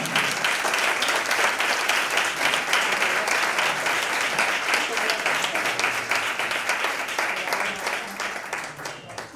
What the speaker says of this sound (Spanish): volia fer un fort aplaudiment per ell, sisplau